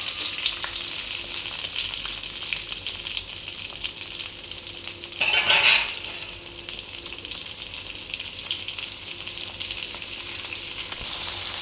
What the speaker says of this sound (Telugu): ఇప్పుడు టమాటాలు వేసుకుందామండి నేను పావు కిలో పావు కిలో పచ్చిమిర్చికి హాఫ్ కేజీ టమాటా తీసుకున్నాం వీటిని బాగా ఫ్రై చేసుకుందాం